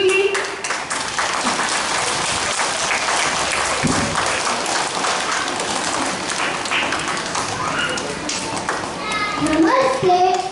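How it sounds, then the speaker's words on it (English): Audience applause at a school Independence Day program: a sustained burst of clapping from many hands, mixed with children's voices, and an adult speaking over it. "Give them a big round of applause."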